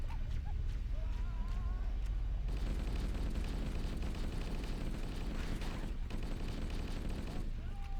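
Rapid gunfire from the shooter game Halo: Combat Evolved crackles through the clip in dense bursts that swell in the middle, quiet overall, with some sparse in-game sounds in between.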